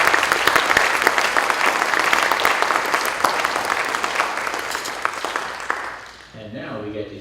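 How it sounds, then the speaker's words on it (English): Audience at a Georgia Senate committee hearing on school safety gives a sustained round of applause, dense and even, tapering off after about six seconds as a voice begins speaking. "Let's give her a round of applause."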